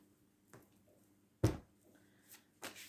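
A few brief riffling bursts of tarot cards being shuffled, close and quiet, separated by short pauses.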